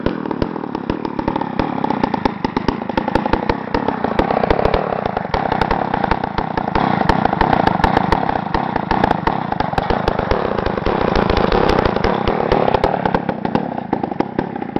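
A two-stroke racing go-kart engine running on a 16-to-1 fuel mix, with a newly set-up throttle linkage, buzzes steadily and loudly throughout, rasping with a dense, rapid firing rhythm and small swells in intensity.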